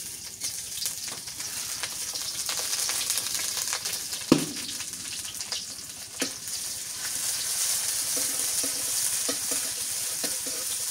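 Onion fries in oil with a constant soft hiss and crackle, a few sharp clinks of a utensil against the pan, close and steady throughout.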